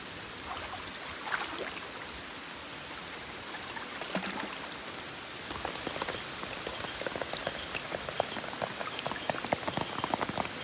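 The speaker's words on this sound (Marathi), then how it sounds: "पण पाऊस जास्त पडतोय" Heavy rain pattering steadily on surfaces, dense and continuous with scattered louder drops, no voices.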